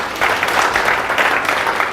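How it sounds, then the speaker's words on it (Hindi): Dense applause from a student audience at a polytechnic motivational session, many hands clapping steadily and loudly for the full two seconds, with no talk over it. "जोरदार तालियां इनके लिए।"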